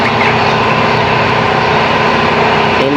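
An auxiliary blower motor with an exhaust-type fan runs at a steady, loud, continuous whir with no change across the stretch and no voices.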